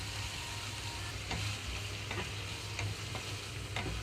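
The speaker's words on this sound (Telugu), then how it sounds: "ఇప్పుడు బెండకాయ ముక్కలు వేసేస్తున్నానండి వీటితో పాటుగా మొత్తం మెత్తగా అయిపోతుంది" Okra pieces fry and sizzle with softened tomato in a pan, a steady crackling hiss with a few soft stirring clicks, close and continuous with no talking.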